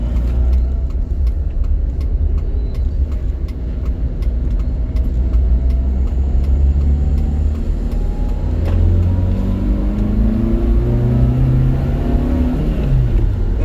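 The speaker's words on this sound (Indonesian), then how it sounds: "Kita coba jalan agak kenceng." A Wuling Formo S with a 1200cc engine accelerates hard from inside the cabin, its loud, steady engine drone rising in pitch through the gears over a constant road rumble.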